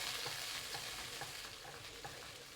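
A sauce of dark soy sauce and sugar is stirred in a hot pan, giving a soft, continuous sizzle with light rhythmic scraping, quiet and brief.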